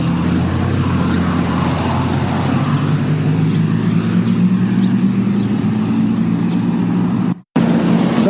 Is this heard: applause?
no